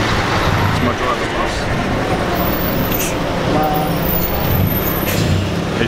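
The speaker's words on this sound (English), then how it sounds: "So I decided to get a tuk-tuk." Thai street traffic rolls past loud and steady from a tuk-tuk ride, with a dense roadway roar and the passing rumble of buses and trucks, including brief air brake hiss, continuous throughout.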